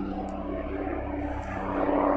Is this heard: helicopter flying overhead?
yes